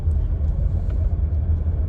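Low, steady engine rumble heard from inside a car, a dense continuous drone dominating the bass with faint road noise above and no talk.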